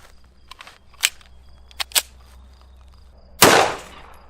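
A single 9mm Speer Gold Dot 124-grain +P round fired into clear ballistics gelatin: one loud, sharp report near the end with a fast decaying tail, preceded by a few faint clicks and taps.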